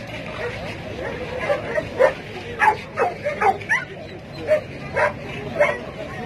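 A Doberman at a Sunday animal market in Casablanca barks in a string of about eight short, sharp woofs with a few yips, close and loud, while people talk around it.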